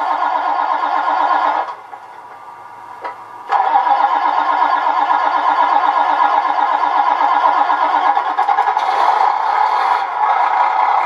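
A radio-controlled car's electric motor spins up on throttle with a steady, bright mechanical whine. It drops off briefly, then holds at full speed, close and loud, with no talking.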